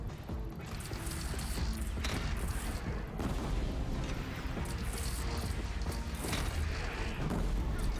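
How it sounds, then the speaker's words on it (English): Dense, noisy barrage of cannon fire and crashing impacts in the video game Horizon Zero Dawn, repeated booms and blasts running continuously and loud throughout. "I'm just standing here shooting a cannon."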